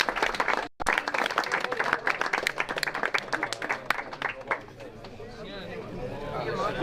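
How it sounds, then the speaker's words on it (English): Applause from an audience at a CRKC 2025 competition heat, dense clapping sustained throughout after a brief gap near the start, with a few voices and some chatter mixed in under the clapping. "Please, one more time, a round of an applause."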